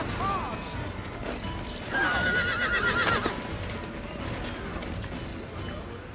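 Horses whinny and neigh in the video game Shogun 2, with a loud, bright whinny in the middle, over a busy background of game noise and clattering.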